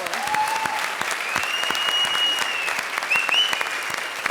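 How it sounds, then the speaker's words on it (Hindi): A standing ovation for performers on a comedy show stage: dense, sustained applause from a crowd, loud and even throughout, with a faint whistle-like tone rising above it. "So I will say the first adieu I bid with a standing ovation to you."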